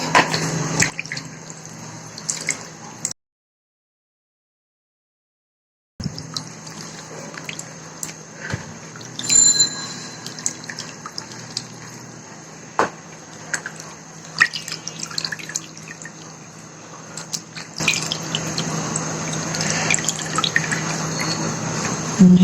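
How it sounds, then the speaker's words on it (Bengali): Lime water is poured and squeezed out of mangoes that soaked in it for about eight hours, making steady trickling and dripping that runs for most of the stretch, broken by one brief silent gap. "এখন আমি চুনের পানিটা ফেলে দিয়ে আসছি।"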